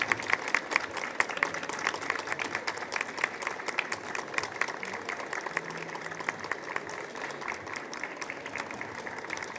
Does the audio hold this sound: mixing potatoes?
no